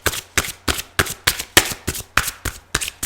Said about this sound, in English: I was shuffling to get the third card out here.